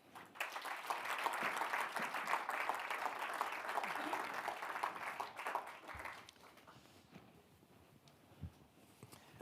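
An audience applauds as Secretary Alex Azar is welcomed to the stage at a public health policy event. The clapping is dense and sustained for about six seconds, then thins into scattered claps and room noise.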